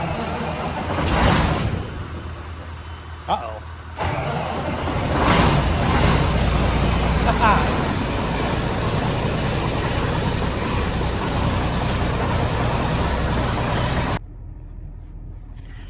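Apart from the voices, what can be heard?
car engine trying to start after freezing Nebraska night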